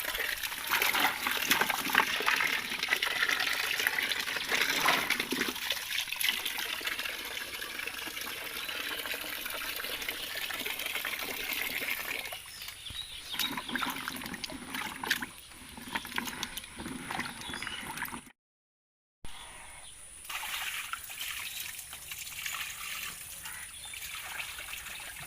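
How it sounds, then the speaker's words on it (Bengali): Mangoes being washed in a half-full bucket of water in a village yard, with steady splashing and trickling that runs almost throughout, broken by a brief silent gap near the end. "এখন আমগুলি ধুয়ে পরিষ্কার করে নিই।"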